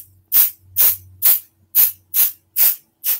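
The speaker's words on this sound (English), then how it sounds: "And what I'm doing is I'm going to just spritz." Seven short, sharp hissing bursts of spray baste adhesive spritzed onto quilt backing, evenly spaced and close, with a faint low hum between them.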